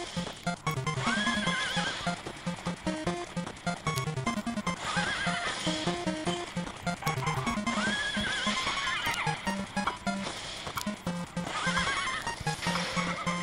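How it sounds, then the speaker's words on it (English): In the mobile racing game QQ Speed, a horse whinnies repeatedly over rhythmic clip-clopping hooves and a musical backdrop, the neighs recurring in a loop with an artificial, game-like quality. "The horse sound"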